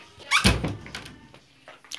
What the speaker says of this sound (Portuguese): E, gente, eu vou fechar a porta aqui,